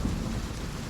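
Heavy rain pours alongside a low rumble of thunder in an audiobook storm sound effect, a dense, continuous wash lasting about a second with no voices.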